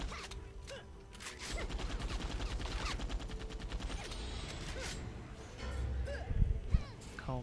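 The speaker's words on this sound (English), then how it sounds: "I also have a Blasticus, which is basically an assault rifle." Rapid automatic fire from the Blasticus, an assault rifle in the video game Dungeon Defenders, rattles in sustained bursts with game effects and a few sharper hits near the end.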